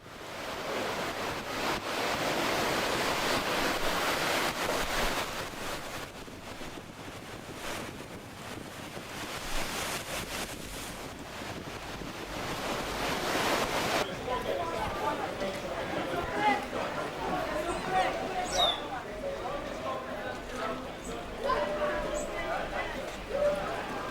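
Waves roll straight onto an unprotected shore with no sea defence, a steady roar of surf mixed with gusty wind noise buffeting the microphone throughout.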